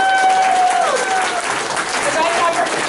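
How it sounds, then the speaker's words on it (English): Audience applause for an award winner at the National Mother Lode Art Exhibition awards, a short burst of dense clapping with a few voices and whoops mixed in. "So I want everybody to give Leslie McCarron a good round of applause."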